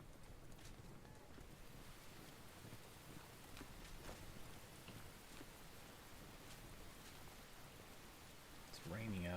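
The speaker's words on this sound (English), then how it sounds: "It's raining out." Steady rain hisses and patters continuously across the scene in the video game Enshrouded, with a low, even wash of noise and a brief louder burst at the end.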